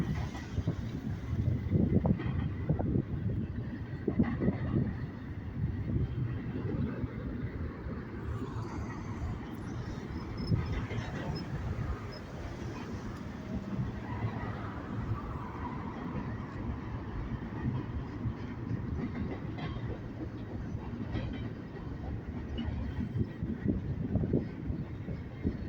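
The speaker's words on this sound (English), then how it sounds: "So here comes the end of the train right here" Long freight train rolling past near a Home Depot, the tail end of its cars going by: a continuous low rumble and rattle of wheels on rail with wind buffeting the microphone, steady and fairly distant throughout.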